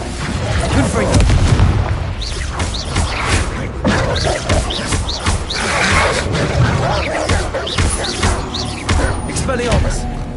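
A Confringo explosive spell is cast again and again in a video game, producing loud, heavy booms and blasts that rumble one after another. A voice shouts over the explosions.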